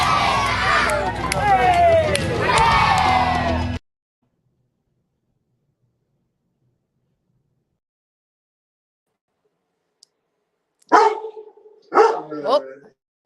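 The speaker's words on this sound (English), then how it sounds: "my dog is going wild" A dog barks excitedly at close range in a dense, continuous burst, then after a long silence a few more loud barks break out.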